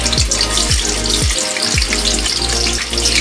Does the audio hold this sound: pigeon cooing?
no